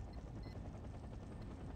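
A helicopter in the real-time strategy game Act of War makes a steady, low rotor drone with a faint engine whine. It runs at an even level throughout, with nothing else over it.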